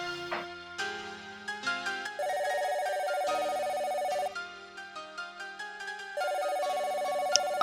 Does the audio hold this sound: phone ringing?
yes